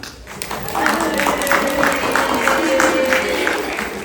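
An audience claps for children at a Tamil school's annual day celebration, a brief round of clapping heard under a voice speaking.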